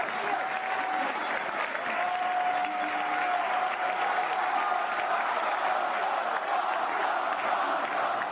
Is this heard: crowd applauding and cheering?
yes